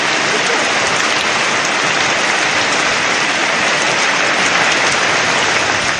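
Heavy rain pours down steadily in Tamil Nadu, a dense, loud and unbroken hiss of drops striking surfaces, with no voices.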